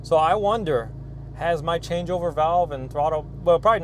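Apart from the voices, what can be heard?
No everyday noises stand out.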